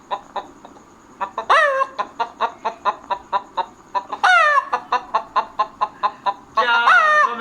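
A man imitates a rooster with his voice, giving a string of rhythmic, evenly spaced clucks broken by three long, loud crowing calls, close and clear with no other talk.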